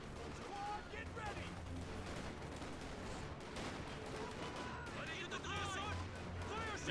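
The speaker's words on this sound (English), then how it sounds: "Machine gun here on the right." Dense machine gun and rifle fire in a Company of Heroes 2 3v3 match on Lienne Forest, a steady crackling barrage with distant explosions and a voice speaking over much of it.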